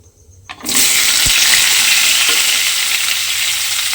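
Potato and pointed gourd pieces dropped together into a little hot oil, setting off a sudden loud, close sizzle that holds steady and bright for several seconds, with no voices.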